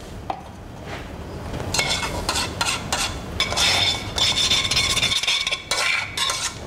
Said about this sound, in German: ich beginne das Fleisch zu marinieren